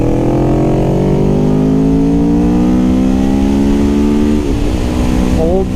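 A car engine accelerating hard in third gear on a race track during a first track day, rising harmonics climbing steadily, loud and continuous, with a brief dip near the end as the pitch shifts.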